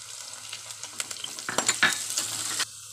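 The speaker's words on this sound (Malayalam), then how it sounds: "ചൂടായതിന് ശേഷം ചുവന്നുള്ളി ഇട്ട് കൊടുക്കുകയാണ്. പച്ചമുളക് ഇടുകയാണ്." Sliced shallots and green chilies frying in hot oil for a Kerala-style sardine curry, giving a steady close crackling sizzle with scattered sharper pops and stirring scrapes that build toward the end.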